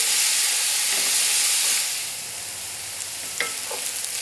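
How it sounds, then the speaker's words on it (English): Vegetables with parsnips sauté in olive oil for a cassoulet, a steady bright sizzle that softens partway through, followed by a few light stirring clicks against the pan. "And we're going to continue sautéing until the ingredients are golden."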